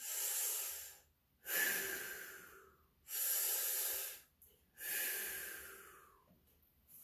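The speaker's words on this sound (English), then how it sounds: "And again, 3 deep breaths." Four slow, deep breaths during a modified hip flexor stretch, each a long, close, airy inhale or exhale separated by short pauses, with no talking.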